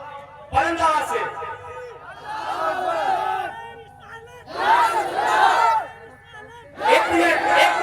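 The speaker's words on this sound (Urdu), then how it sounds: "ایک شخص کھڑا ہو مجمع سے نعرہ لگائے اور ہر ایک انسان نعرے کا جواب دے" A crowd at a religious nizamat gathering roars a chanted slogan in unison, answering a lead voice in loud, repeated group bursts separated by short pauses.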